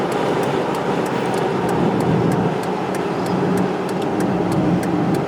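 A car cruising along Colorado's front range of the Rocky Mountains, a steady, continuous road and engine hum with no speech, holding an even level throughout.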